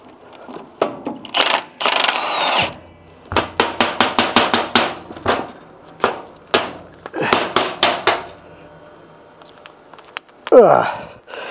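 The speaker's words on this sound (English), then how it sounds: "we're going to take these bolts out that hold the rear spring to the rear axle" Impact or power tool loosening the bolts that hold the rear leaf spring to the rear axle of a Nova, heard as a run of rapid, close, sharp bursts with short pauses between them.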